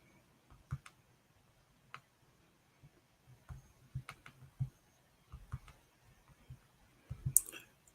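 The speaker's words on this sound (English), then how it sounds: "But I'm typing the TPs right now." Typing on a computer keyboard at a desk during a live forex trading session, with faint, scattered key clicks in short irregular bursts, some slightly louder taps near the end.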